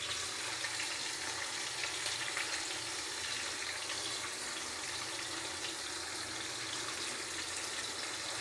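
Onions fry in a pan, giving a steady, broad hiss of sizzling that holds evenly throughout at moderate loudness, alone without any talking.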